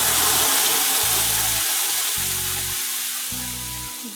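Chopped garlic and paste sizzle steadily in oil in a pan, a broad bright hiss throughout, with a few separate low hums or clunks underneath.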